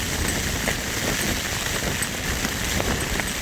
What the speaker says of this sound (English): It's basically raining.